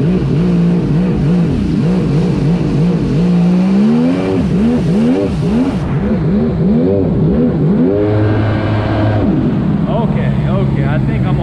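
A Yamaha GP1200R personal watercraft engine is revved repeatedly while warming up, loud rising and falling blips in quick succession, with a voice talking over the engine.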